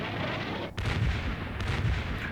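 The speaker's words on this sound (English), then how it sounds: "I set the artillery barrage to anti-infantry, which I think means that there's air bursts mixed in" A Combat Mission battle rages with an artillery barrage mixing ground and air bursts. The explosions form a dense, loud, continuous rumble of overlapping detonations.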